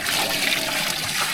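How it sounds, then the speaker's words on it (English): Water being added to a hot limewash mix, a close, steady gushing pour that runs on without a break. "So we'll bang some water in there now."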